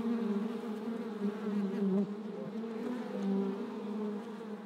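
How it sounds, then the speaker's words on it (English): Honey bees drone with a steady, dense buzz inside a real hive, close and continuous, with no voices. "if you take a look at this footage from inside a real hive, you can see what this waggle dance really looks like"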